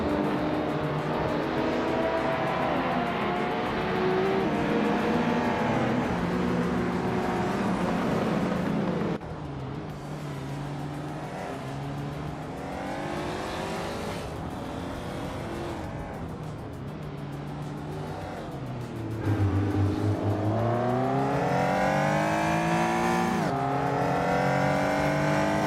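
Nissan Skyline GT-R R33 race car in a racing video game, engine revving and rising through gears, dropping at shifts then climbing again, steady and loud with no talk.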